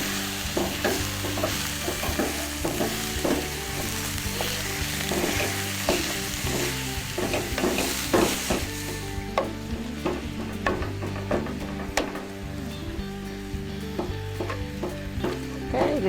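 Hamburger meat fries in a hot pan with a loud, continuous sizzle and crackle while a spatula repeatedly scrapes and breaks it up, steady throughout with no voices.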